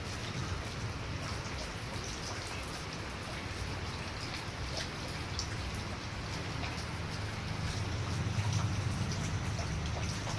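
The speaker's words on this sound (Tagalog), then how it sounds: "Maulan na naman, guys." Steady rain pours down in Davao, a dense, even hiss of falling drops spattering on surfaces, continuous and close throughout with no pauses.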